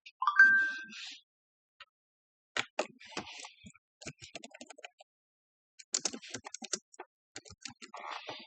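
A single bright phone notification ding sounds at the start, followed by scattered soft tapping and clicking like fingers on a screen, all quiet and close.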